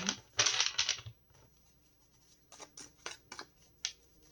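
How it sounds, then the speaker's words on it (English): Playing cards riffle and shuffle close by, a long flurry of papery flicks followed by several shorter, sharp bursts with pauses between. "I like to give it a good shuffle"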